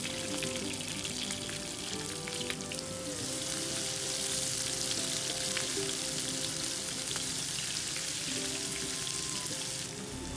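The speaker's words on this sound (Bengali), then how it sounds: "কালো জিরাটা যখন একটু গরম হয়েছে তখন আমি এর মধ্যে তেজপাতা দিয়ে দিলাম 2-3টা।" Black cumin seeds and two or three bay leaves fry in hot oil, a steady bright sizzle that holds loud and even throughout with faint music beneath and no talking.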